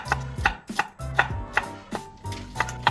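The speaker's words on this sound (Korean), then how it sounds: "오이 썰고 있는데" A knife slices cucumber on a cutting board, giving steady, crisp chops about every third of a second, close and clear with no talking.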